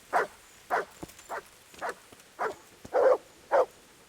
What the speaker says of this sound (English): What are you barking about?